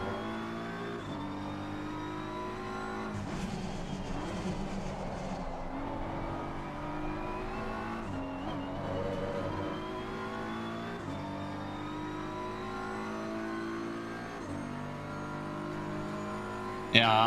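A BMW race car engine in the Live for Speed racing game revs and shifts through gears in repeated rising pulls around Brands Hatch, steady and prominent, with a voice talking over it at times.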